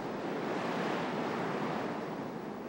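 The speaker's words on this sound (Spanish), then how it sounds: "el océano Pacífico azota con fuerza el litoral" Pacific Ocean waves pound a rocky shoreline, producing a broad, continuous roar of surf and spray with some wind rush, loud and close.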